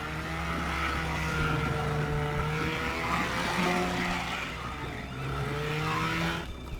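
A car is driven in the video game Teardown, its engine droning and shifting pitch as it revs up and down, loud and continuous, with a brief tire squeal.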